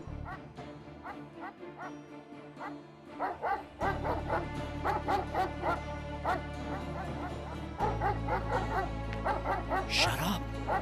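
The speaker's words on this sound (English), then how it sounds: "Shut up, stupid dog! Quiet!" A dog yips, whimpers and barks repeatedly in an excited, uneven string while a person talks loudly nearby.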